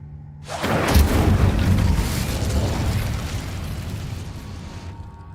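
Incendio fire spell in Hogwarts Legacy, a loud burst that flares up, then roars and crackles broadly before fading over several seconds.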